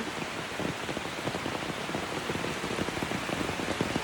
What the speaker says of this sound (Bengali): আমাদের গ্রামে হচ্ছে প্রচুর প্রচুর বৃষ্টি হচ্ছে